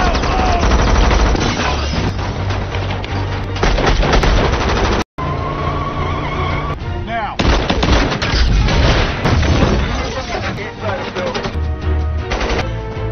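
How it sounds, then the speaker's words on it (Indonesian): Gunfire in a film shootout as FBI agents arrive, with dense, loud bursts of shots running almost continuously and a brief break near the middle, set within a thick soundtrack. "FBI sudah keburu datang, di mana terjadi baku tembak yang cukup menegangkan"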